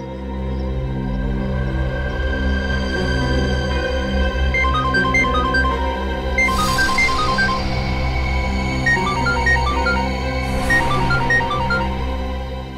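A melodic phone ringtone plays repeatedly over a steady musical background, with two brief bursts of noise between rings.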